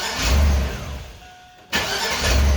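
A high-mileage Chevrolet Suburban V8 cranks, goes briefly quiet, then catches and starts, settling into a loud, close engine rumble.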